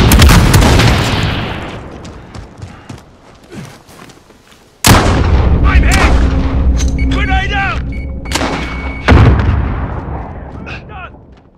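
In a Call of Duty: Modern Warfare match, a loud grenade blast opens and its rumble trails off over several seconds. A second sharp explosion follows, then rattling gunfire, shouted voices and another heavy boom, all near and intense.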